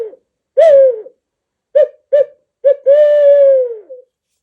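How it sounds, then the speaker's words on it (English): Owl hooter turkey-hunting call blown in a hooting owl rhythm, several short hoots followed by a longer drawn-out hoot, loud and close against silence. "some of the ones that I carry is an owl hooter."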